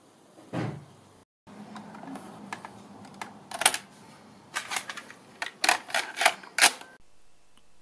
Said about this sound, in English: the tape is in the drive